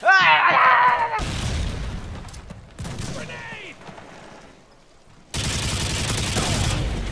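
A grenade blast booms in Call of Duty Modern Warfare, followed by bursts of rapid gunfire and another loud volley, with shouting voices mixed in.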